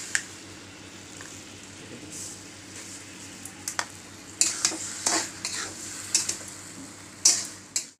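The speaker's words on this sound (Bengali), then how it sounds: "দেখো চিনি আমাদের ফুটতে শুরু হয়ে গেছে, জাল হয়ে গেছে" Sugar syrup for raw mango morabba bubbles in a pan with a low steady simmering hiss, broken by sharp clicks and taps of a spoon stirring against the pot, and no one speaks.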